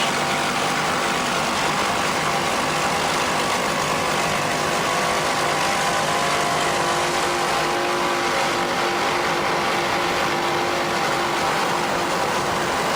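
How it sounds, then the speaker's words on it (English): Twin 630-horsepower Bandit racing powerboat engines roar at a steady, loud, unbroken pitch, joined by heavy wind and water rush, at an offshore powerboat race off Sarasota in 1994. "Let's listen to those 630 horsepower Bandit racing engines"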